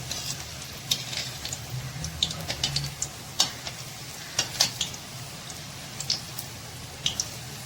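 Bread rolls frying in hot oil: a steady low sizzle with scattered sharp crackles and pops coming at an irregular rhythm, close and moderately loud.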